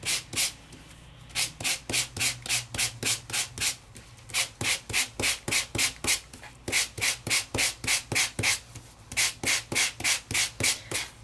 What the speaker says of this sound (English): let's grab a sanding block